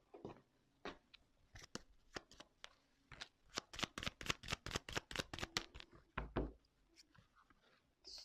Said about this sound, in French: je vais prendre quelques cartes